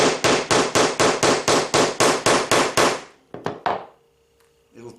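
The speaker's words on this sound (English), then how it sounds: "I have to go get my hammer." Hammer blows strike a leather sheath snap set on an anvil, about thirteen loud, evenly spaced metallic hits in quick succession, then a few scattered softer taps.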